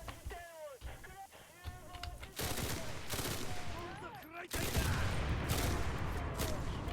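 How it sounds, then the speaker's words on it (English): Tommy gun fire in a video game, rapid bursts of shots that grow denser and louder across the clip, with a brief voice early on. "I hate these Tommy guns. They fire so quick"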